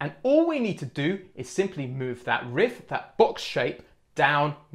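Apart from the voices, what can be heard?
None of the usual background noises is heard.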